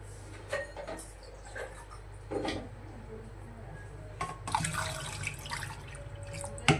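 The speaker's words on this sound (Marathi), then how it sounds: "अजून पाणी लागत आहे अजून पाणी टाकू" Water splashing and trickling into a pot of mashed dal for sambar in short bursts, with a few clinks of a spoon against metal nearby.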